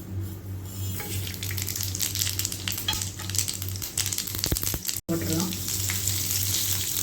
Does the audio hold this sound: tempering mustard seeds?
yes